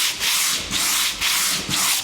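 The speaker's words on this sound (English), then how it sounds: "So I'm just taking my sanding block back and forth on my project to bring out some of the brown." A sanding block rubs back and forth on a wooden project with coarse grit, giving four loud, even, rasping strokes close up.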